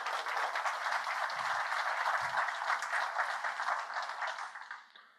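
Applause from a lecture audience at the 20th-anniversary Norman R. Seay Lecture, a broad, even wash of clapping from a full room that holds steady and then tapers off at the end.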